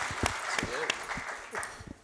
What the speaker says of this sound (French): On peut applaudir ça, j'aime bien.